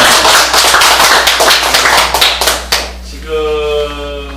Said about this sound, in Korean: 박수 한 번 더 쳐줘요